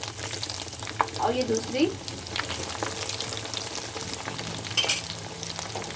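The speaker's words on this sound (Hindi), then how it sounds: "इसको फ्राई होने के लिए 2 मिनट के लिए रख दें ऐसे ही" Zinger chicken pieces with a crispy coating fry in hot oil over a medium-low flame, giving a steady close sizzle with occasional stirring clinks, while someone speaks briefly.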